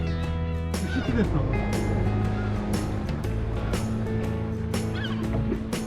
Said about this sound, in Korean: 자 이거 갈매기 찍어 빨리 어 갈매기 찍어